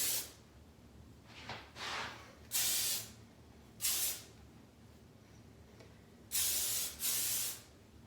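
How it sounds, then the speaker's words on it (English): Six short hissing bursts from an aerosol hairspray can sprayed onto hair, some quick pairs and some longer sprays, close up against a quiet background. "spray it on the top again. It's a drier spray, so it's not gonna be sticky"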